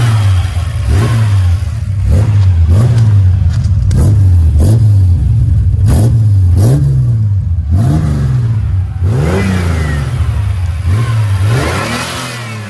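A 1990 Chevrolet Opala Comodoro six-cylinder engine revs repeatedly up and down nearby, loud rising and falling bursts over a rumbling idle, with no talking.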